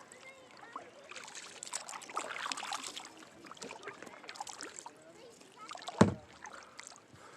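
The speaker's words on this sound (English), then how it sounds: "glorious day of kayaking." Kayak paddle strokes dip and drip on a mountain lake in the evening, soft splashes and trickles close by with one sharper splash near the end, while someone talks throughout.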